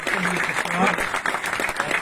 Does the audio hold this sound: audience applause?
yes